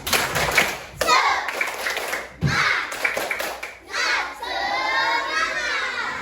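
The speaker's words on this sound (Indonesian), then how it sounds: "Tepuk semangat." Schoolchildren in a Malaysian or Indonesian classroom do a rhythmic spirit clap chant, clapping patterned beats together while chanting loudly in unison, with a teacher's voice nearby.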